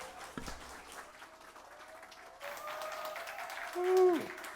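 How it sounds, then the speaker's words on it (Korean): An audience at a concert featuring a cellist breaks into a swell of applause that builds midway, with a sustained tone lingering beneath and growing louder near the end. "여러분 다시 한번 큰 박수 부탁드리겠습니다"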